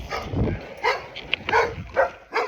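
A pit bull mix dog barks in several short, sharp bursts spaced about half a second apart, close and moderately loud, with no talking.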